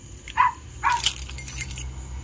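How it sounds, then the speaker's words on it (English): Keys jangle at a front door as it is unlocked in the evening. Two short metallic clinking bursts come close up, with a dog faintly audible inside. "unlock the door."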